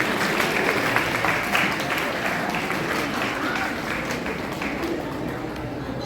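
A crowd at a live comedy show claps in a dense, sustained wave that slowly fades in level, with a murmur of voices mixed beneath.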